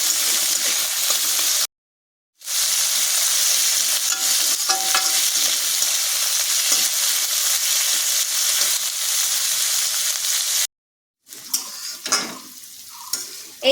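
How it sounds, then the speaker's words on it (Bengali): Kharkol leaves and stems frying in a pan with onion, garlic and green chili, a loud steady sizzle and hiss that runs continuously with two short silent gaps and a few stirring scrapes near the end. "এগুলো এবার একটু ভাজা ভাজা করে নিচ্ছি"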